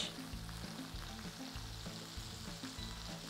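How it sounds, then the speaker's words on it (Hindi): A ball of beef mince, smashed into a hot oiled pan for a smashed beef burger, gives a steady, soft crackling sizzle throughout. "पैन को अच्छे से गर्म करके ऑयल डाल लें उसके ऊपर आपने बीफ मिन्स की बॉल डाल के उसको करना है स्मैश"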